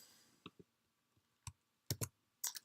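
A few scattered computer keyboard clicks, sharp and close, arriving singly and in a quick cluster near the end, with quiet gaps between.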